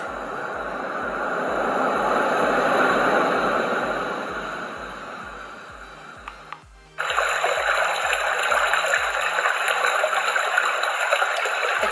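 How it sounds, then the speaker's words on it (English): A Dreamegg sound machine plays a recorded sea-wave track, a steady, hissing wash of surf-like water that swells and slowly fades, with faint regular thumps underneath, then cuts abruptly to another continuous rushing water sound. "This is the sea wave."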